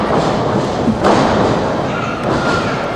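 A wrestler is shot on and taken down onto the mat at a wrestling event, making a heavy thud that cuts through loud, constant crowd noise. A softer thump follows soon after.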